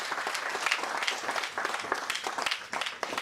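A crowd at a Holi-season Hindi comic poetry gathering in Etawah bursts into loud, sustained clapping, dense and continuous throughout, with faint voices mixed into the applause.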